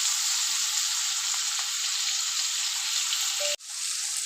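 Spices frying in a pan for a rohu fish curry give a steady, close, bright sizzling hiss that cuts out abruptly near the end and then resumes.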